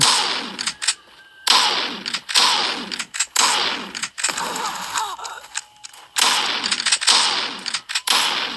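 Automatic gunfire in a Bigfoot mobile video game rattles in rapid, loud bursts separated by short pauses, close-up and harsh, with no talking.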